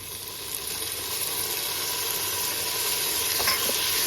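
Tomatoes frying in a garlic and ginger masala, with a dense, steady hiss of sizzling oil that builds slightly and stays loud and close, with a faint tap or two.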